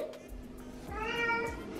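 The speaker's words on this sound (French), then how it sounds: "Oui, tu miaules?" A house cat meows a single drawn-out, rising cry close by, with faint room noise around it and no talk over it.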